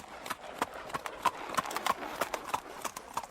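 A horse trots at a jerky pace, its hooves clip-clopping in a quick, uneven rhythm, fairly faint and distant, with no talk.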